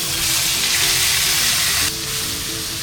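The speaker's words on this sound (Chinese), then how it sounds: "柠檬干煎鸡。" Lemon chicken pan-frying dry in a pan, a loud close hiss and sizzle that eases slightly partway through.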